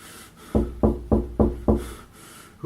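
Five firm, evenly spaced knocks on a closed door, heavy and close with a dull thud, a brief pause, then the start of another knock.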